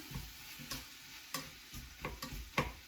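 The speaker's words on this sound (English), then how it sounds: "Give it a good stir." Ingredients stirred in a hot pan, with several distinct scraping strokes over a steady sizzle of frying food and no talking.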